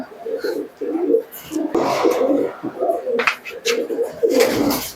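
Giribaz pigeons cooing close by, repeated soft throaty coos in a loose rhythm, with some rustling and a voice in the background.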